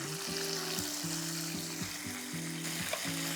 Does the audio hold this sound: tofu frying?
yes